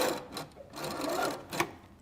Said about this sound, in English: I'm gonna go to my sewing machine and I'm just gonna sew that down so that the elastic stays on one side.